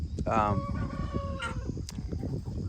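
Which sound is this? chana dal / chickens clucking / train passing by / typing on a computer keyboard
chickens clucking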